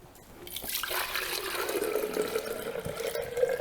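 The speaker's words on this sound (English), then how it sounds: "Now we're ready to pour the tea mixture into our jar." Calamansi iced tea mixture is poured into a jar over ice, a steady liquid trickle and splash rising after a quiet start, with no talk over it.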